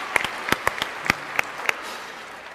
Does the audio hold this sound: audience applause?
yes